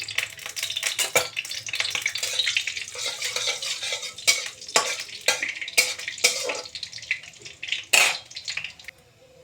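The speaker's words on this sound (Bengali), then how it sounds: "একটু কালো জিরে ফোড়ন দিয়ে দিলাম।" Nigella seeds tempering in hot oil make a loud, continuous hiss and crackle, with scattered sharp clicks of a spoon or spatula against the pan; no voices are heard.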